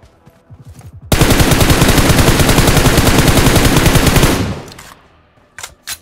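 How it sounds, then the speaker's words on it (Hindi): Loud, continuous automatic gunfire rattles for about three seconds in PUBG Mobile (BGMI) on an iPhone 13, a dense rapid stream of shots that cuts off and leaves faint scattered noises. "अब यहाँ से भाई सामने से खतरनाक फायरिंग आ रही थी"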